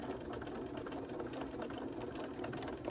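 A sewing machine runs steadily, stitching fabric along a seam in a sewing-circle project, its fast even mechanical whirr continuing at a moderate level throughout with no talking.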